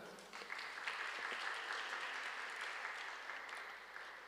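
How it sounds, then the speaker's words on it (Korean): Church congregation applauding during a Sunday worship service, a steady wash of many hands clapping together at moderate distance, sustained evenly for several seconds with no break. "우리 승우를 여러분 박수로 한번 환영해 주시면"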